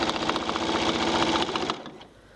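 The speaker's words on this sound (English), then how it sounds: "let's keep on sewing." A sewing machine stitches a quilt in a steady, fast, close mechanical whir. It stops abruptly near the end, leaving a quiet hum.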